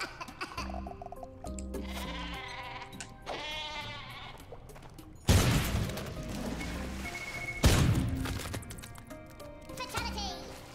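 Sheep weapon in Worms Revolution bleating repeatedly over cartoonish game music, followed by two loud crashing explosions, with a voice talking underneath.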